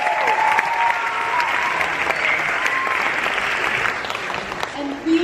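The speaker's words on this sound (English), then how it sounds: "I think that deserves a round of applause" A festival audience gathered to celebrate Harry Potter's 20th anniversary gives a steady round of applause lasting several seconds, with a few voices mixed in and a brief dip near the end.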